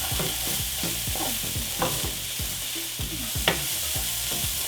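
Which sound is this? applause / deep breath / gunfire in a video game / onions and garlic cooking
onions and garlic cooking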